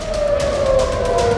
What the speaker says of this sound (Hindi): पूरे मध्य इजराइल में सायरन एक्टिव कर दिए गए।